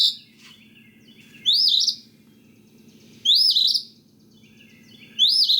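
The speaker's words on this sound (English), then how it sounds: "The Phoebe, listen to it." An Eastern Phoebe calling three times at even intervals, each call a sharp, raspy two-part chirp, clear and fairly close over a quiet background hum.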